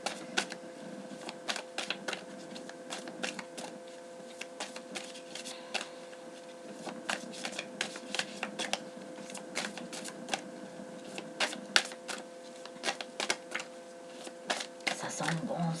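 Oracle cards being shuffled, giving a rapid, dense run of crisp papery clicks and flicks that continues throughout, with a faint murmur of voice underneath.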